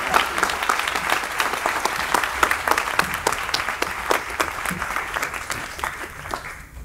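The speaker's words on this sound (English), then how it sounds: "A round of applause for the seniors." Sustained applause from a commencement crowd for graduating seniors of the class of 2023, dense steady clapping throughout that thins slightly near the end, with no talking over it.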